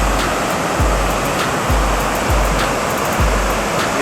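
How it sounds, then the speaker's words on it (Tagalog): Loud, continuous rushing water roars without a break at the Bustos Dam spillway, a dense wash of noise with faint periodic thumps beneath it. "Ang lakas ng puwersa ng tubig."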